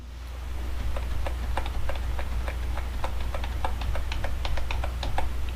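Steady computer keyboard typing, a fairly even run of crisp keystrokes repeated over a constant low hum, with no voices, as cuts are made in DaVinci Resolve editing software.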